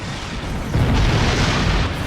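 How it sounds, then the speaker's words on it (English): Heralds fire weapons on a portal in the space game Star Trek Online, producing a loud, sustained low rumble of blasts that swells partway through and holds steady. "The Heralds are firing on the portal!"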